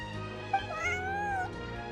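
A cat meows once in the video game Genshin Impact, a drawn-out, rising and falling call heard clearly over a steady tonal backing.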